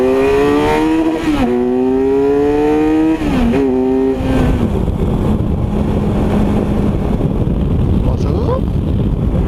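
A 2016 Kawasaki Versys 1000 motorcycle engine rises and falls in pitch through several gear changes while riding, loud and close with heavy wind noise, settling into a steady drone.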